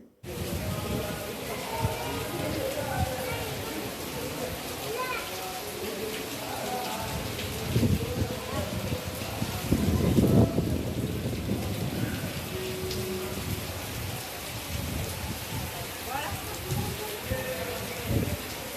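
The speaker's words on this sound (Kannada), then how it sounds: "ಎಷ್ಟೊತ್ತಾದರೂ ಮಳೆ ನಿಲ್ಲೇ ಇಲ್ಲ" Steady, heavy rain pours without a break for the whole stretch, a dense, even hiss with faint voices and occasional thumps beneath it.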